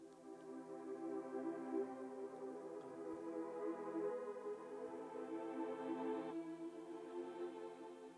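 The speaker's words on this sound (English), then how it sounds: "So I'm using this organ Mellotron and I'm shaping the tone of it," Organ-type Mellotron tone run through an automated band-pass filter, a sustained chordal pad with dense harmonics that shifts in brightness and drops to a thinner, darker tone near the end, steady and alone.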